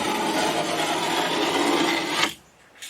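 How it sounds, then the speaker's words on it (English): A utility knife scores along drywall at an outside corner stud, a steady loud scraping rasp for about two seconds that stops abruptly. "I'm just going to take my knife and just cut along the outside corner stud here."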